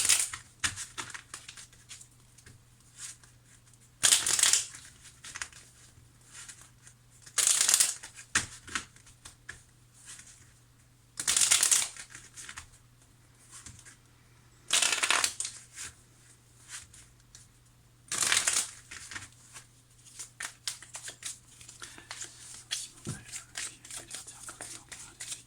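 Tarot cards from a Line of Love deck shuffled and laid out in a series of crisp, papery riffling bursts every few seconds, with quiet handling sounds in between, close and fairly soft.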